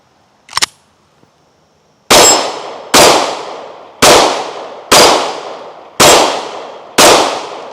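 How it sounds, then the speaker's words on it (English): Pistol shots from a Sig P365X and a Glock 43X ring off steel targets outdoors: one early distant pop, then six loud, evenly spaced shots, each ending in a bright metallic clang that decays quickly. "Let's go ahead, put a few on steel before we get started."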